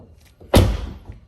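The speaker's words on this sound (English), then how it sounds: "So let's close the door and see if it works." A Tesla Model 3 car door swings shut with a single solid, close thump, followed by a brief fading rumble.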